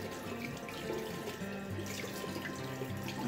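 A tap runs steadily into a sink while a brush is rinsed under it, a close, continuous splashing flow with no voices.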